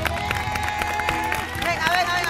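Studio audience applauding a gentleman at the reveal of a hidden-camera prank on a Spanish TV show, a dense steady wash of clapping and crowd noise with voices mixed in throughout.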